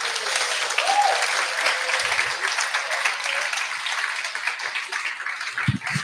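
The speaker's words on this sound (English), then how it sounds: "Round of applause for you." An audience at a youth awards ceremony applauds steadily, a dense round of clapping that fills the room from start to finish, with a few muffled low thumps near the end.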